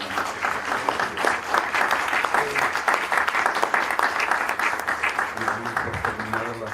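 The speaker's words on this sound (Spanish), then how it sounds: "Con un aplauso, si ustedes gustan." Steady applause from an audience, dense clapping filling the room for several seconds, with some voices mixed in.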